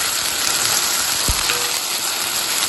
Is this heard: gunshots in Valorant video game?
no